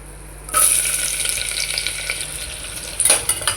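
An onion with cinnamon, cloves and cardamom hits hot oil and breaks into a loud, bright sizzle that stays steady, then swells again briefly near the end as it is stirred, with no speech.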